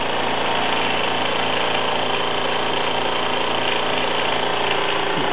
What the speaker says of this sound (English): you can see both engines purring away. They're very, very smooth running engines indeed.